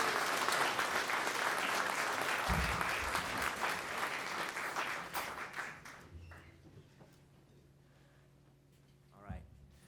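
Audience applause for the artist in residence at a tribute concert: dense, loud clapping that fades away after about six seconds, leaving quiet room tone and a brief bump near the end.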